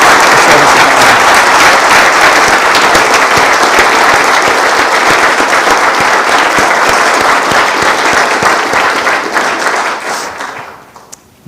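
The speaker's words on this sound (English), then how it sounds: "Please join me in giving a warm round of applause to thank Art for his military service" An audience at the 2024 Putnam County, New York State of the County address gives loud, sustained applause that fills the room, then thins out and fades near the end.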